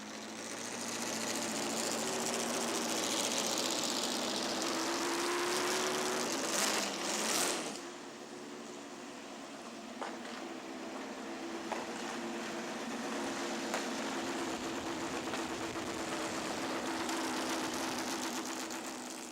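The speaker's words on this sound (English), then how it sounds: "race fans could once again hear the sound of a pair of thoroughbred racing engines at work" A pair of vintage thoroughbred racing car engines run at a Road Atlanta historic race event, a steady droning engine note with a brief louder rev partway through, heard from a distance.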